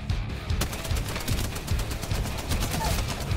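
Dense gunfire in a multiplayer video game, a rapid stream of sharp cracks and bursts that runs steadily throughout, with people talking over it.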